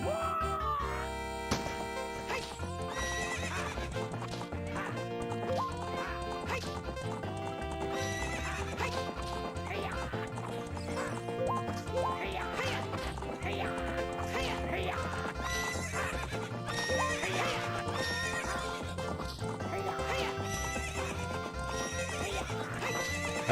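A horse in Zelda: Ocarina of Time whinnies and its hooves clip-clop over continuous game music that stays loud throughout.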